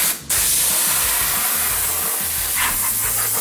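Compressed air gun blasting water off a car at a self-service car wash, a loud, steady roaring hiss that runs without a break after a brief opening burst, heard alone with no talk.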